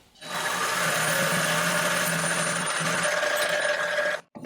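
A larger drill bit bores into a bass guitar body, giving a loud, steady, continuous whine that runs for about four seconds and then cuts off abruptly.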